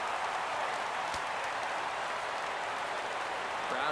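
Baseball crowd at the Metrodome cheering and applauding during a 3-2 count against the Detroit Tigers, a steady loud roar of many voices filling the stadium from start to finish.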